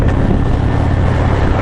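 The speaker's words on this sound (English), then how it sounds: "you can hear the wind" Heavy wind roar buffeting the microphone while riding a Harley-Davidson motorcycle with a cracked windscreen, loud, dense and continuous with the motor buried underneath.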